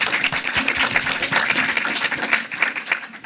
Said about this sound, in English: let's give them first one round of applause.